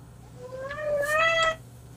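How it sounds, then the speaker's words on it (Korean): A cat in heat lets out a drawn-out yowl, about a second of rising, wavering wail that stops sharply, heard alone over a low steady hum. "와, 고양이 발정 났다."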